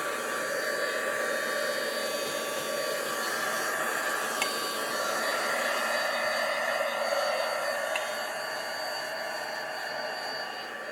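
A hair dryer blows steadily over a freshly worked mixed media art journal page, a close, continuous whooshing hum holding at an even level throughout with no voices.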